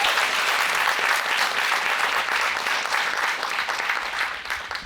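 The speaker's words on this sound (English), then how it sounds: "Let's give them a round of applause." Audience at a school library renovation reveal applauding, a dense and steady roar of many hands clapping at close range that fades slightly toward the end.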